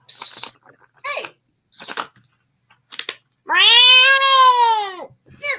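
A cat gives one long, loud, drawn-out meow near the end, preceded by several short, scattered chirps and mouth noises close up indoors, with no speech over it.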